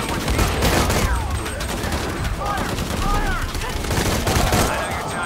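Dense, rapid gunfire from Shadow of the Tomb Raider rattles almost without pause, loud bursts layered into a constant barrage, with a voice faintly mixed in.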